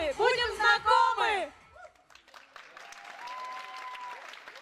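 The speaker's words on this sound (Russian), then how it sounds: "Сегодня весь ГДК нам будет хлопать громко." Applause from the audience at a KVN junior league comedy show in Ufa comes after a loud chanted or sung group line. The clapping is moderate and steady, continuing to the end with a faint sustained tone over it.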